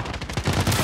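Rapid burst of P90 submachine gun fire in Call of Duty Warzone, a loud, dense rattle of closely spaced shots that fills the short moment with no talk over it.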